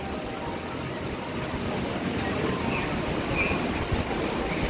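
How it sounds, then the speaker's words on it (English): Ocean surf at Daytona Beach, heard from a high-rise balcony twenty floors up, makes a steady distant broadband wash with light wind noise, continuous and even, with no talking. "So, this is the beach."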